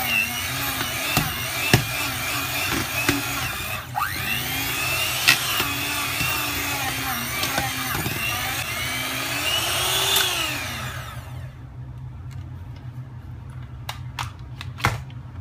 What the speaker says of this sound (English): just go on full speed and get it all completely mixed up. Be careful not to burn the motor either.